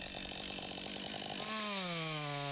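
A chainsaw felling a tree buzzes close by, then its pitch sweeps up and settles as the engine revs higher, loud and continuous.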